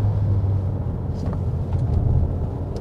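A Skoda Kodiaq 1.4 TSI compact SUV drives along, its engine a steady low rumble under road and tyre noise, close and fairly loud, with no talk.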